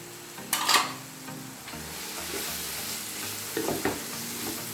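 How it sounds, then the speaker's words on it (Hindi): Finely chopped spinach sautéing with masala in a pan, a continuous sizzle broken by a couple of louder stirring scrapes near the start and again toward the end. "अभी भुनाई करेंगे, इसकी भी अच्छे से भुनाई करेंगे।"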